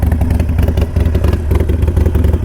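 A Harley-Davidson Sportster engine idling close up, loud and low with the uneven, lumpy pulse of its exhaust holding steady throughout.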